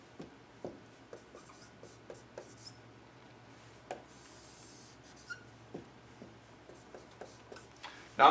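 A pen draws arcs on a classroom board in faint, scattered strokes and taps over quiet room tone, with a louder scrape at the very end.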